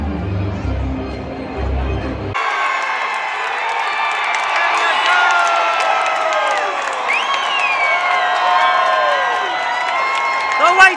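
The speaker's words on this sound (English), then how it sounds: "For a team that was so awful, this crowd is amazing." A big stadium crowd at a White Sox baseball game in Chicago roars and cheers continuously, with whoops and whistles rising over steady babble after a brief quieter moment at the start.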